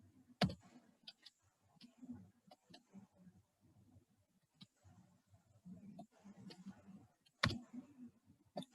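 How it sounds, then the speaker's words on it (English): Computer keyboard typing, irregular quiet clicks and taps scattered through the stretch with a few sharper strikes, while a person talks softly over it in a room. "I'm just typing without seeing the keyboard."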